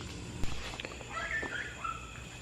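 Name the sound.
dog barking outside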